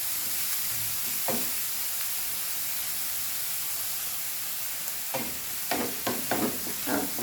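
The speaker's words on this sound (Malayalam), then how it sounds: "പച്ചമുളക് ഇട്ട് 1 മിനിറ്റ് കഴിയുമ്പോൾ സവാള ഇട്ട് കൊടുക്കുക. അപ്പോൾ കൊത്തി വരുന്നത് സവാള ഹൈ ഫ്ലെയിമിൽ വെച്ച് തന്നെ നമുക്കൊന്ന് വഴറ്റിയെടുക്കാം." Onions and green chillies sautéing on high flame with mustard seeds in a pan, a steady hiss of frying broken by a few short scraping stirs near the end.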